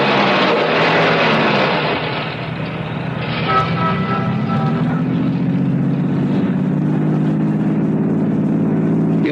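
Car engine for a radio drama, a steady low idle drone rising and settling after a brief dip, loud and continuous with no voices over it.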